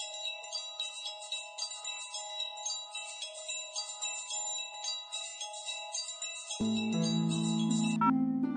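A phone rings with a repeating electronic jingle in steady, even bursts, clear and close. A brief louder musical sting cuts in near the end.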